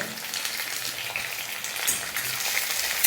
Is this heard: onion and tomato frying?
yes